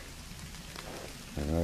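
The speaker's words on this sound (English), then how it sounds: "And it's starting to rain." Rain begins falling in woodland near a fox or groundhog den, a steady close patter with a voice starting briefly at the end.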